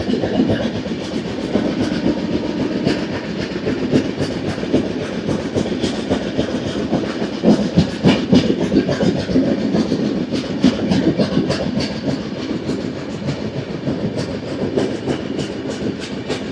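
Godavari Express 12728, running from Hyderabad to Visakhapatnam, rolls steadily along the rails. A continuous loud rumble carries a repeated clickety-clack of wheels over rail joints, with no voices.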